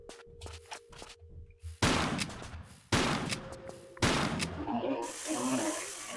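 Gunfire at an enemy in Tomb Raider 3: several loud, sharp shot bursts at about two, three and four seconds, each followed by a decaying rumble, with quieter clicking action between them and a hissing spray at the end.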